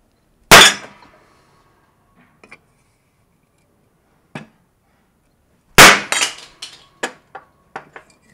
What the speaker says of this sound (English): I'm gonna put a socket on the back side and just sort of hammer it down.